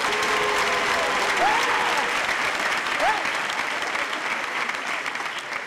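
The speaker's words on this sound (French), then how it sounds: "est-ce qu'on peut applaudir les hommes responsables?" A live comedy show audience breaks into sustained, thick applause that rolls on evenly for several seconds, with a few cheers and voices rising through the crowd noise.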